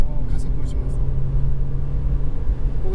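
A sports hybrid Impreza slowing, turning and accelerating away, its low engine and road rumble steady and close inside the cabin while someone talks over it.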